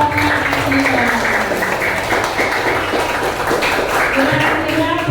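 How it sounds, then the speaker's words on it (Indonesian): Classroom of students and teacher clapping for a group during a school coaching session, a dense steady patter of claps under a busy, talkative room. "Beri tepuk tangan untuk kelompok Akila."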